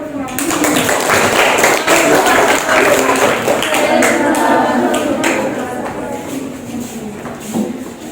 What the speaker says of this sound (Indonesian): Silakan semua tepuk tangan.